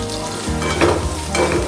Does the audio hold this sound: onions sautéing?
yes